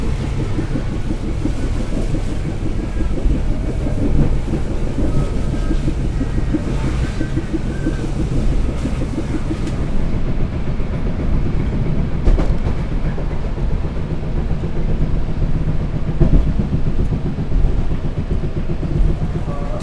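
The Gajah Wong passenger train rolls along the rails near Bekasi station, heard as a loud continuous rumble of wheels with rattling carriages and wind noise for about twenty seconds.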